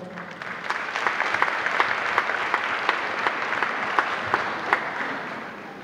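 A crowd gives loud applause for a performer at a Guarnera Brothers celebration, dense clapping with a few sharper individual claps standing out throughout.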